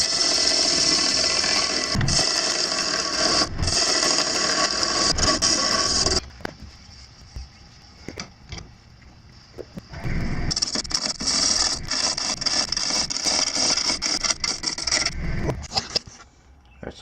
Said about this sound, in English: I'm going to turn the tenon down here, flip it around, and start doing some shaping.